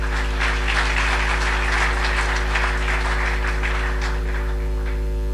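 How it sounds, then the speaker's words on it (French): Audience clapping for a young Congolese comedian, sustained even applause over a constant low hum, fairly loud throughout with no talk. "Applaudissez très fort."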